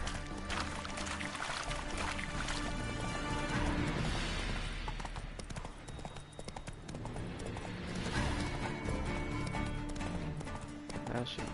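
Horse hooves pound at a gallop in The Witcher 3: Wild Hunt, a steady clip-clop running under dense game music and ambience, with brief voices heard over it.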